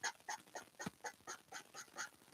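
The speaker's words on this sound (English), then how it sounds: "I'm sitting down with the ducks, looking at the ducks." Ducks quacking nearby, a rapid run of about ten evenly spaced quacks in a steady rhythm, fairly faint and heard alone.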